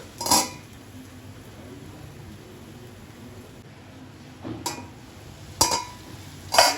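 A metal lid clatters onto a pan of frying brinjal, with sharp clinks near the start and several more at the end over a quiet, low sizzle.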